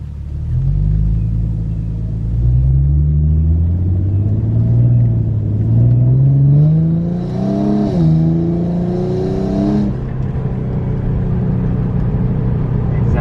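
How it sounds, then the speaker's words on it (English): An Infiniti G37 with a new Y pipe drives with the windows up. Its deep exhaust rumble climbs and falls through the gears, loud and continuous. "This is the first drive with the new Y pipe."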